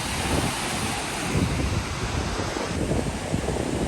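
Sea waves wash continuously onto a beach in Phuket, a steady broadband roar of surf with gusty wind buffeting the microphone and no voices.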